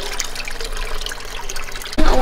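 A small fountain in a backyard fish pond splashes and trickles steadily nearby, with a louder burst of water noise near the end.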